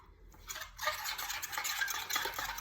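Vegan sponge cake batter being mixed in a bowl, a soft wet stirring and scraping that starts quietly and then continues close up in an even rhythm, with no talking.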